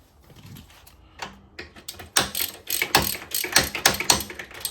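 Ratchet socket wrench clicking in quick, close bursts as a 15mm socket loosens the rear shock bolt on a Suzuki GSX-R 750 sports bike, a 12mm spanner holding the other side, with rapid metallic ticks building louder toward the end.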